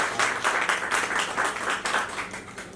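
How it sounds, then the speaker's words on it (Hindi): An audience gives the small team a round of applause at the promo launch of the Lal Rekha serial: steady, dense clapping from many hands at moderate loudness, without talk. "इस छोटी सी प्यारी सी टीम को एक जबरदस्त ताली चाहिए"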